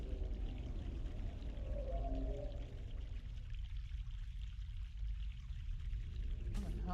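Flowing mountain water in The Longest Journey video game runs as a faint, continuous trickling pour, low in level and steady throughout, with a brief soft voice near the start.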